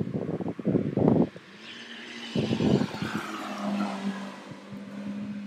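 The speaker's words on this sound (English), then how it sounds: "A Schumacher just drove past." A sports car with two seats and a powerful motor drives past on a road. Close bursts of engine noise come first, then a sustained engine drone recedes into the distance, with no talk.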